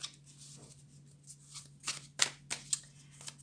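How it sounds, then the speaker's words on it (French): Tarot cards are shuffled close up, a quiet series of soft riffling flicks and taps that grow sharper toward the end, over a faint steady hum. "On va bien brasser déjà"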